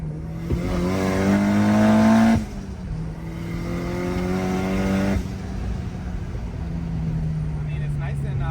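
Nissan S15 engine revving hard on a dyno, a loud sustained roar with a rising pull that drops off, then a second long pull, with engine drone continuing at the end.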